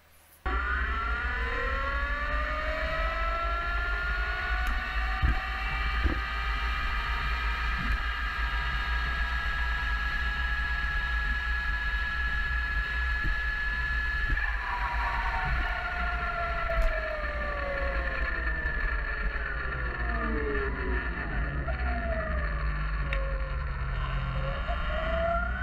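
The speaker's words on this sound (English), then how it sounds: "you're going to see exactly how regen is used to do all of the braking coming into this corner" A high-power electric motorbike on a Lightning Rods controller, braking with regen into a corner: a loud, steady whine whose pitch sweeps downward as it slows, then rises again, under constant rumbling wind and road noise.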